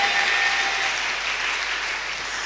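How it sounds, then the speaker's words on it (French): Steady applause from a church congregation at a Sunday worship service, a dense wash of many hands clapping that fills the room and tapers slightly, with no voices over it. "On peut applaudir son exemple ce matin,"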